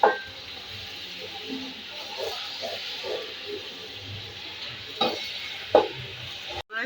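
Green chillies fry and get stirred in a pot for chana pulao, a steady low sizzle under soft scraping, with a few sharper clinks of the spoon near the end.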